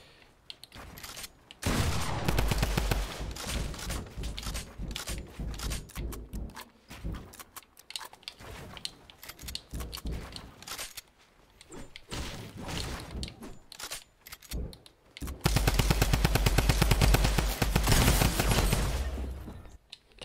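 A drum gun firing in a video game, rapid sustained bursts of automatic gunfire with brief gaps between volleys, ending in a louder, denser stretch of continuous shooting.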